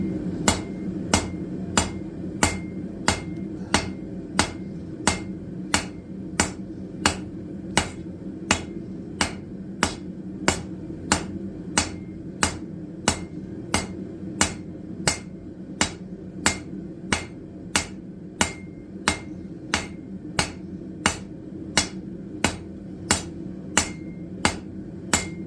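A blacksmith hammers a forged camp table leg to a taper, sharp metallic strikes falling in a steady, even rhythm, about one per second, close and loud throughout with no talk.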